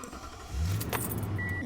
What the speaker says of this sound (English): Engine is on, light is green.